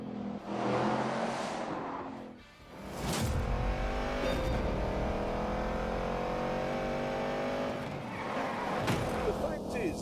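Muscle car in The Grand Tour Game with a push-rod, two-valve iron engine, revving loudly and steadily for several seconds after a brief dip, with someone talking over it.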